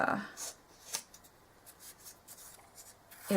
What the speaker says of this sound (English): to make it curl, I'm just using a bone folder